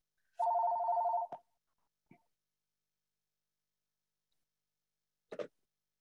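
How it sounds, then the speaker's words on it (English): A single telephone ring sounds during a church's live online worship, a short bright electronic trill lasting under a second in a quiet room, followed by a soft click and a later faint clunk. "when the phone rings and you haven't muted it"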